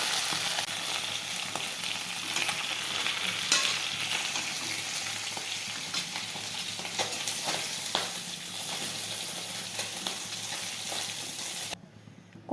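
A fish head fries crisply in plenty of oil in a kadai, a loud continuous sizzle and spatter with occasional stirring sounds, cutting off abruptly near the end.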